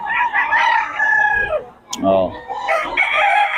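A young rooster (stag) at a gamecock seller's crows loudly and close, one long drawn-out call, with other fowl sounding and someone talking briefly around it.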